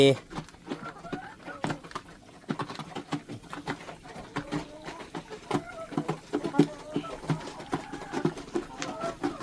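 Laying hens cluck at a rural farm home in the evening. Scattered short clucks and squawks rise and fall close by, with small patters and knocks mixed in.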